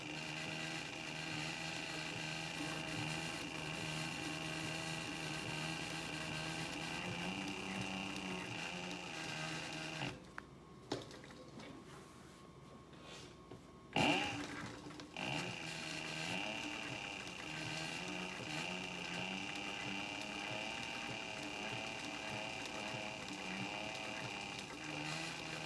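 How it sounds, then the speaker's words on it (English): A sewing machine stitches a planner cover with a steady mechanical whir, running continuously up close, pausing briefly midway with a quiet gap and a small clatter before resuming. "Hold on to my thread and start sewing."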